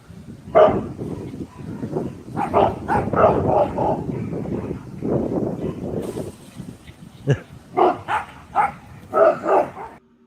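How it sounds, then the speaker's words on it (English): A dog barks several times in deep, loud bursts, some of them yelp-like, mixed with stretches of human talk over the top. "Oh, yeah, listen to that big bark."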